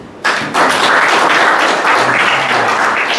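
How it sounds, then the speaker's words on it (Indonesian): Sunday church congregation clapping hands together, a sudden loud burst of dense clapping that starts abruptly and continues steadily, close and full. "Kalau yang mengerti tepuk tangan"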